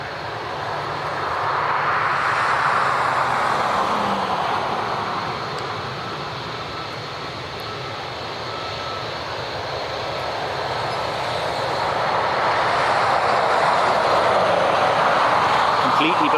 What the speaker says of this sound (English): Completely black ATR, class, but it's completely black aircraft